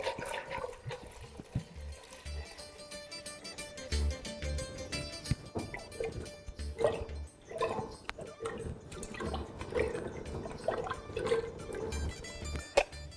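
Water pouring and dripping into a pot of new potatoes for boiling in a home kitchen, with scattered drips, trickles and clinks across the stretch, fairly quiet.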